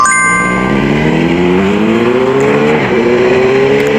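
A Kawasaki Z800 motorcycle accelerates hard on a mountain road home from a dam crest, its engine note climbing steadily in pitch through the gears, loud and close with a brief dip at a shift.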